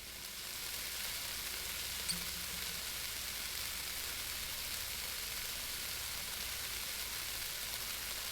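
Food fries in oil in the video game Cooking Simulator, a steady, dense sizzle that swells in over the first moment and then holds evenly, with no voices.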